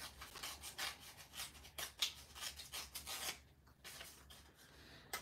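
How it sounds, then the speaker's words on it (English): Paper is ripped across by hand in a paper craft, heard as a series of close, quiet, rasping tears in short strokes, then a brief pause and a few softer rustles. "I want to rip. I'm going to rip across here."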